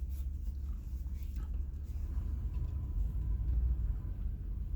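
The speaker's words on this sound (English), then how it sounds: "I'm gonna shut the truck off" A pickup truck idling outside Cortez, Colorado, with a steady low rumble close by and quiet movement faintly on top.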